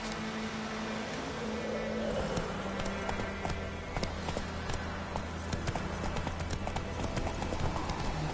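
A horse's hooves clip-clop at a steady galloping rhythm in The Witcher video game, continuous and fairly close under a low background drone, with talk in between.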